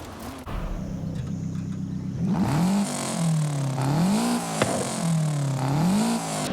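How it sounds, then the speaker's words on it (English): A Lancia Delta rally car engine in a racing video game burbles and rumbles as the throttle lifts, with wavering pitch swells and a sharp pop over a steady mechanical drone. "This is the Lancia Delta, and the first thing I noticed was it actually has a separate sound for when you let off the throttle."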